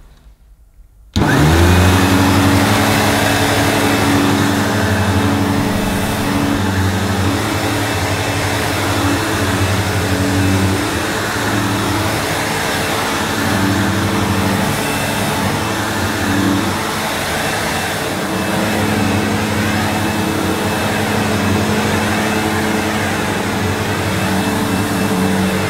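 A Sebo Ensign Stealth upright vacuum cleaner switches on abruptly and runs on low pile hall carpet as a loud, close, steady motor whine with brush hum that holds throughout, without any talking.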